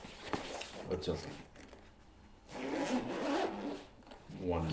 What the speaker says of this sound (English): One zipper.